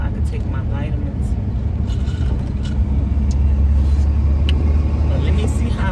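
A van rolls through slow morning traffic, its engine a steady low rumble with road noise filling the background throughout.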